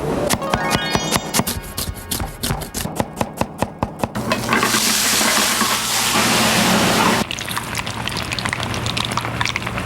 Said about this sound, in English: The cooking process not only looks and tastes good, but it also sounds good.